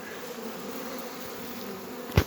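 A steady buzzing hum of many honeybees flying out of hive entrances nearby, with one bee zipping loudly past close up near the end.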